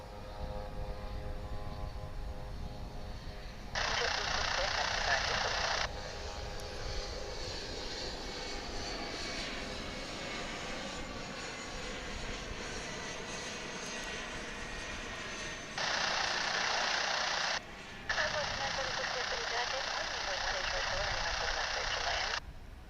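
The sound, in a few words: aircraft from Amarillo landing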